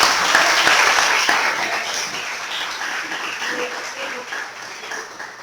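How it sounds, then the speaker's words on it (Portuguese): A church congregation claps together in worship during a Portuguese-language sermon, a bright, dense wash of hands that starts strong and slowly thins out. "E as palmas louvam e exaltam a Deus."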